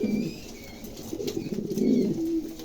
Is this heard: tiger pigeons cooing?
yes